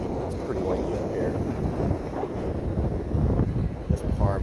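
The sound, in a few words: wind on cruise ship deck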